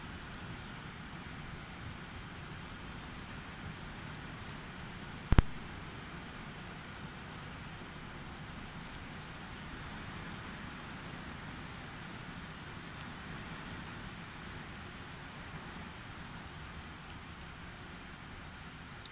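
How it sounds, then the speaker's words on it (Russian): Heavy rain pours down outdoors in Moscow in summer in a continuous, even hiss, broken once by a single sharp click partway through. "Пошел дождь."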